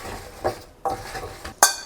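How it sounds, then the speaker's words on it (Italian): Fruit stirred by hand in a bowl with lemon juice, maple syrup and cinnamon, giving a few separate scraping, clinking strokes close by with short pauses between them and no talking. "Come spezie aggiungeremo cannella e mescolo"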